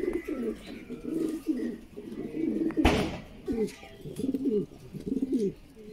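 A pair of blue barless Lahori pigeons in a cage give repeated soft, low cooing phrases close by, with one brief loud rustle or flap midway.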